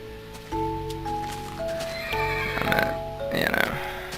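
A horse in the Minecraft video game neighs, a loud close whinny with wavering tones, then a second shorter neigh, over a steady background hum and faint game sounds.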